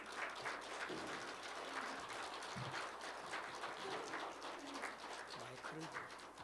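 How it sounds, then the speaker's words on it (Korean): Church congregation at a Wednesday prayer meeting welcoming the pastor with applause, a continuous fairly faint wash of clapping from a distance, with low voices murmuring underneath. "목사님 앞으로 오실 때 큰 박수로 다시 환영하도록 하겠습니다."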